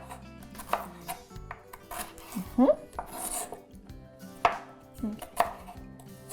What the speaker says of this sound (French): En tranche mince comme ça. OK? Ça aussi, je vais couper un petit peu plus, je pense.